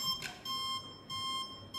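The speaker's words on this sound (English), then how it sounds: "if the gimbal detects a foreign force acting on the motors, it sounds a really distressing alarm" A Zhiyun Crane M2 gimbal sounds its alarm because force is acting on its motors. The alarm is a steady, thin, high electronic tone pulsing in short repeated beeps, faint and heard alone.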